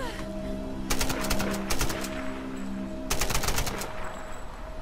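Bursts of automatic gunfire in the Tomb Raider video game, two loud volleys of rapid shots separated by a pause, over a steady hum of game music.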